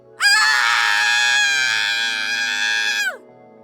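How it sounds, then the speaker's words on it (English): A single sustained, piercing scream holds for about three seconds at full loudness, starting abruptly and then sliding away at the end, with nothing else around it. "Mare screamed."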